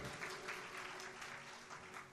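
Audience applause at a Hindu religious discourse, sustained clapping from a gathered crowd, steady and even though quietly recorded, with a faint hum beneath.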